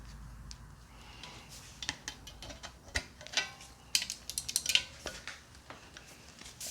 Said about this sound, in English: and I need a screwdriver